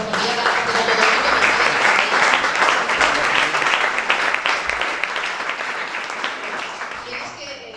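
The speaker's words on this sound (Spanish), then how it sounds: "así que yo creo que se merece un gran aplauso" Sustained crowd applause at a PSOE party event in Sabadell, a dense wash of clapping that stays loud throughout and fades a little toward the end, with some voices mixed in.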